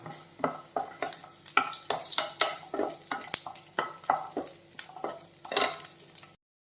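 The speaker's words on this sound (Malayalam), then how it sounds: "ഫ്ലെയിം കുറച്ച് വെച്ചിട്ട് ഈ വെളുത്തുള്ളി ഒന്ന് ചെറുതായിട്ട് വഴണ്ട് കിട്ടണം" Garlic cloves frying in oil in a pan over low flame, with a steady soft sizzle and repeated scraping stirs at a regular pace, close and with no voices.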